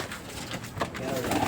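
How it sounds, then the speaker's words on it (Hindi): Domestic pigeons of a home-bred line coo softly in a loft, with low, close murmuring calls that swell toward the end over a faint room background. "एक से एक प्यारा कबूतर अवेलेबल है इनके"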